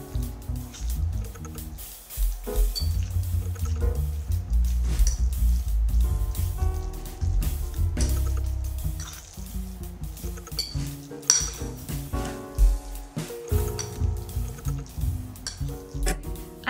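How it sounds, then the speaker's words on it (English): A fork mixing tuna salad in a bowl: steady clinks and scrapes of metal on the bowl with soft, wet squishing, continuous and close. "I keep mixing with a fork until my tuna salad looks almost creamy."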